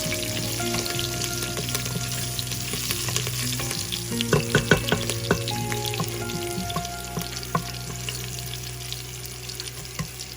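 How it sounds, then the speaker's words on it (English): Cumin seeds (jeera) frying in oil in a pan while cooking a dal chicken curry, a steady close crackling sizzle with small pops and a few clinks of stirring, no talking. "let this come to fry a little bit. Want the jeera to brown just slightly."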